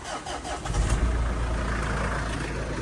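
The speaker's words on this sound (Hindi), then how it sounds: "गाड़ी गर्म करने यार, जिम चलते हैं" Car engine starting on a rainy morning so it can warm up, a cranking burst that catches into a loud, steady idle rumble close by, with no talking.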